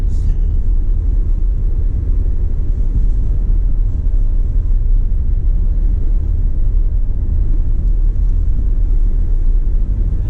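Range Rover Velar R-Dynamic luxury SUV on an off-road track, heard from inside the cabin as a steady, loud low rumble of engine and tyres with no breaks.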